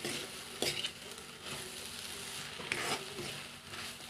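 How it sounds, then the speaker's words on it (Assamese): Mitha mora greens and masoor lentils fry in a pan with a steady soft sizzle, while a spoon scrapes and stirs them in a few distinct strokes close by, with no talking. "এতিয়া ভালকৈ লৰাই দিম।"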